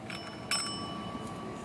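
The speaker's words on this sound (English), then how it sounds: "It's a little bell." A small bell gives one bright, clear ring whose tone hangs and fades gently against a quiet background.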